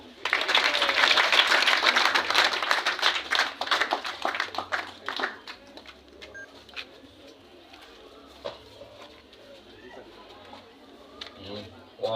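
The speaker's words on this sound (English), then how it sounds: "Please clap for her." At an Olympic Day celebration, a burst of clapping from a small group rises quickly, then thins out into scattered claps and fades.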